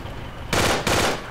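Gunfire in the video game Project Reality during an ambush, two quick loud bursts of automatic fire over a steady background rumble.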